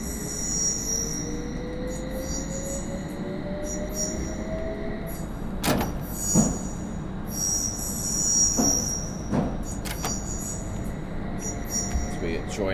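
A Metropolitan Line train in Train Simulator Classic runs along the track with persistent high-pitched wheel squeal over a rumbling, rattling base, with sharp clanks at intervals.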